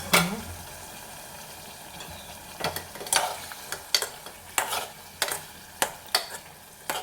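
Tomatoes cooking and softening in a pan for a village-style green chilli chutney, a soft steady sizzle broken by a series of sharp stirring scrapes and knocks against the pan at irregular intervals.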